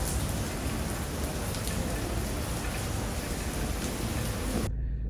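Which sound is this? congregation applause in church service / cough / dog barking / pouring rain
pouring rain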